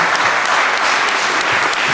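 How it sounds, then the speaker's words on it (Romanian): Loud, continuous applause from an audience honoring a group of young people, many hands clapping densely and evenly throughout. "să-i mai aplaudăm încă o dată"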